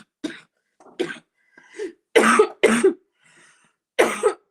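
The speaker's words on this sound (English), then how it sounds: "Still not over that cough." Several harsh coughs and throat-clearing bursts come in close, irregular clusters, loud and near, with short quiet gaps between them and no speech.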